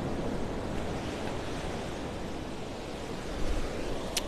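Waves wash in over a sandy beach in a continuous broad hiss and rush, swelling briefly near the end.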